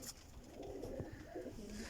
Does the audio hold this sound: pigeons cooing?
yes